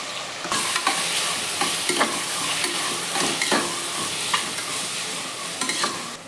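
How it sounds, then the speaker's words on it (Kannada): Tomatoes frying in a pan with salt added for Vangibath, a continuous close sizzle broken by repeated scraping strokes of a spoon stirring the mixture, with no voices. "ಟೊಮೊಟೊ ಚೆನ್ನಾಗಿ ಬೇಯೋವರೆಗೂ ರುಚಿಗೆ ತಕ್ಕಷ್ಟು ಉಪ್ಪು ಹಾಕ್ತಾ ಇದ್ದೀನಿ"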